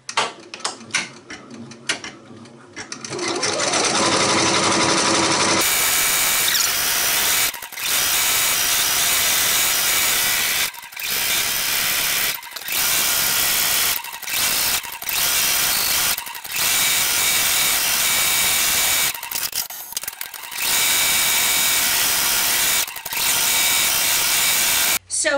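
Computerized embroidery machine stitching a garden snowball design in a hoop; after a few seconds of quiet clicks, a loud, steady mechanical whirring and rapid needle chatter runs on, broken by several brief pauses as it trims or changes position.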